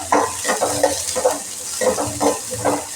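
Onion and masala powders fry in a pan while being stirred, with a sizzle under a steady rhythm of close spoon scrapes against the pan.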